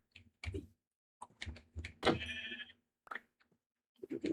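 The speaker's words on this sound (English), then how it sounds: "Oh, I haven't seen the new baby sheep." Baby sheep bleating in the Minecraft video game, several short, close, separate bleats in an uneven rhythm with one longer drawn-out cry in the middle and silence between calls.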